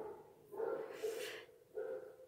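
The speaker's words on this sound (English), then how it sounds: "I know you guys can hear the barking" Faint, distant dog barks, two or three muffled yelps heard from afar against a quiet background.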